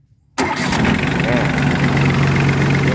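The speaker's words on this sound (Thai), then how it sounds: "ตัวนี้จะเป็นเครื่องยนต์ไดเรกสามสูบสิบสี่แรงนะครับ" A three-cylinder 14-horsepower diesel Yanmar tractor engine starts abruptly after brief quiet, then settles into a steady, loud, rumbling idle with a constant low hum.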